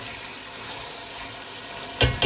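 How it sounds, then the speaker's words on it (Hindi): Chicken frying with spices in a pan for a quick chicken korma: a quiet hiss builds into two loud sizzling bursts near the end as the pieces are stirred. "तो हम इसे अब चिकन को फ्राई कर लेते हैं इन्हीं मसालों के साथ।"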